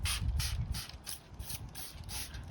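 Hand spray bottle misting water onto a 2006 BMW E90 headlight during wet-sanding restoration: about seven quick hissing spritzes in an even rhythm, close by, with no speech.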